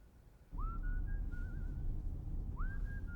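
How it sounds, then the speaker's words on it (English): Someone whistles a couple of sustained, slightly wavering notes over a low background hum, pausing briefly between phrases. "You are whistling."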